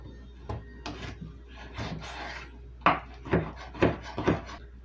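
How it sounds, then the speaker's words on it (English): Knife cutting food into bite-sized pieces on a wooden board, a series of separate chopping and scraping strokes, close and moderately loud, becoming sharper and more rhythmic toward the end. "I'm just cutting this into bite-sized pieces,"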